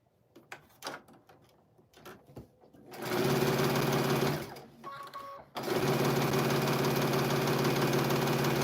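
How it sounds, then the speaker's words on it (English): A sewing machine stitches diagonal lines across quilt half-square triangles, running in a steady close whir for a burst, pausing briefly, then running again to the end after some quiet handling noises. "I'm right now only sewing on diagonal lines"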